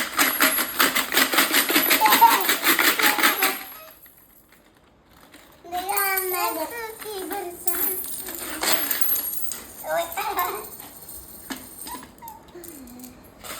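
A pile of coins is poured out of a child's piggy bank in a dense metallic clatter. Then comes a lull, followed by scattered clinks as the coins are handled, with a child and an adult talking over them.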